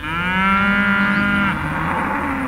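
Cattle moo loudly and close while being herded on open land, one long drawn-out low call that bends in pitch and fades at the end, with no talking.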